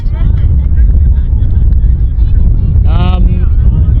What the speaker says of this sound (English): All the hoops are down, it's quite windy.